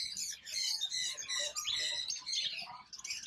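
Wild birds kept in the open at a Bangkok exotic animal market keep up steady, overlapping chirps and squawks, a busy, close chorus with no talk.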